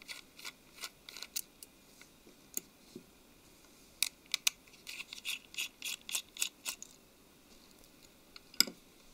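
Small Torx T5 screws being undone on an LG Nexus 4 phone during a teardown: a string of faint, close, sharp metallic ticks and scrapes in irregular bursts, with no talk.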